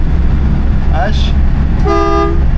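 A horn sound box fitted to a Citroën Acadiane van plays short electronic tones close by: a brief wavering toot comes first, then a longer, steady, buzzy musical note.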